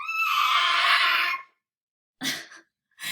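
A girl screams in the background, a loud sustained high cry lasting over a second, followed by two short bursts of sound after a pause.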